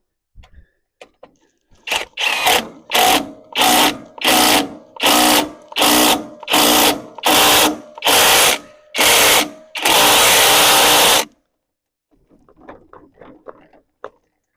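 Impact wrench hammering bolts tight on a Cub Cadet engine, ten loud rapid bursts in a regular rhythm followed by one longer continuous burst, then quieter handling noises.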